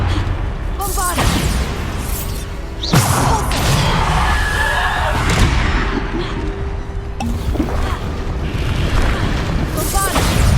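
Bombarda spell explosions in Hogwarts Legacy combat, heavy booms and crashes recurring over dense game effects and music, while a voice talks over the action.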